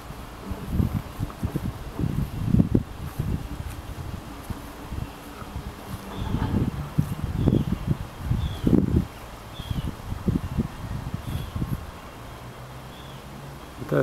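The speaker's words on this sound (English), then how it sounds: "But the wind's blowing and stop, blowing and stop." Gusty outdoor wind rushes against the microphone in uneven bursts, swelling and dropping off repeatedly as it blows and stops, fairly loud and close, with no voices.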